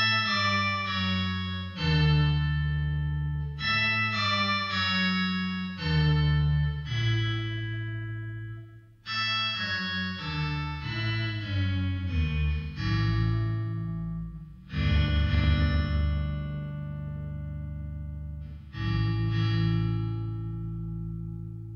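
Electric guitar through an Electro-Harmonix HOG harmonic octave generator, layering voices two octaves below, one octave below and a fifth above into a thick, orchestral tone; sustained chords ring out in several long phrases, loud and alone without talk.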